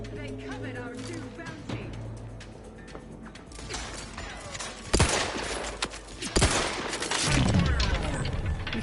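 Game weapon fire in The Outer Worlds 2, a weapon with explosive rounds: a scatter of sharp shots and mechanical clatter, then heavier bursts toward the end, under someone talking.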